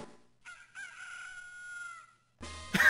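A video game rooster crow, from Pokemon Clover, rises and holds in a long, drawn-out cry, ending abruptly, followed by a short burst of noisy sound.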